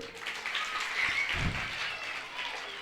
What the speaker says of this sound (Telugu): ఒకసారి గట్టిగా చప్పట్లు.